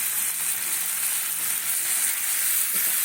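Ginger, garlic and green chili frying in a hot pan, a dense, even sizzle held steady and close throughout with no voices.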